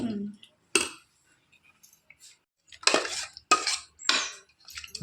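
Tomato chutney being stirred in a kadai gives a few sharp metal scrapes and clinks of a spoon against the pan, spaced by short quiet gaps, with a brief voice early on.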